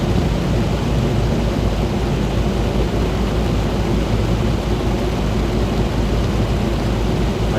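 A Queensland thunderstorm pours heavy rain onto a car on the road, a loud, unbroken roar of rain with deep thunder rumbling underneath and no voices.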